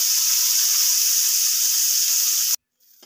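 Small fish sizzling hard in hot oil in a wok while being turned over, a steady loud hiss that cuts off abruptly near the end.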